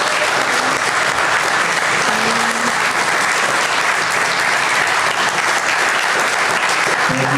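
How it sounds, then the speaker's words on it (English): An audience at a naturalist club's monthly evening meeting applauds loudly and steadily after a talk on flower flies, dense clapping filling the whole span without letup. "Let's give Alex a round of applause"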